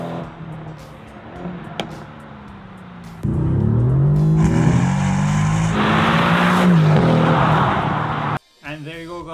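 A sports car engine revs up loudly and holds a high, rising roar, then cuts off abruptly and the revs drop.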